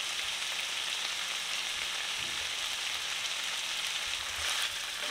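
Capsicum and onion sizzle steadily in a hot pan for a street-style chicken roll, a continuous, close hiss of frying with faint stirring and no voices.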